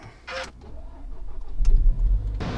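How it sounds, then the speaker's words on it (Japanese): A car engine cranks briefly and catches, then settles into a low, steady rumble that swells toward the end; no one speaks. "それではエンジンスタート。"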